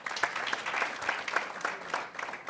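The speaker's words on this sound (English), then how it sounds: "Please clap for your friends." Audience claps for graduates at a ceremony as names are called, a light, uneven patter of hands with a few sharper individual claps standing out.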